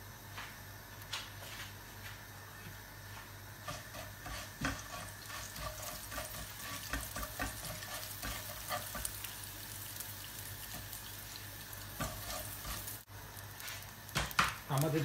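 Cumin seeds fry in hot oil with a faint, steady sizzle and crackle, broken by scattered clinks and scraping from stirring.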